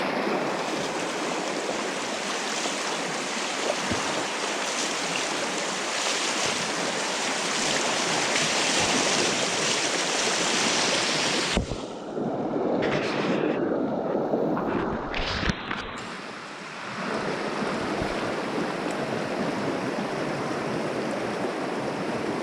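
A Southcentral Pennsylvania mountain stream flows with a steady, full rush of water that stays close and continuous, with a brief dip in the middle where the sound shifts and muffles before the flow returns.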